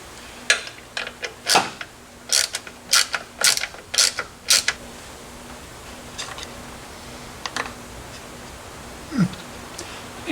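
Wrench ratcheting and clicking in short bursts while torquing bolts on a Tremec 5-speed transmission being fitted to a 1970 Chevelle SS 454 convertible, a quick run of clicks followed by a few scattered ones.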